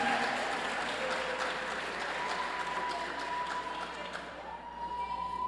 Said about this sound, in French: On applaudit l'équipe, s'il vous plaît, mesdames,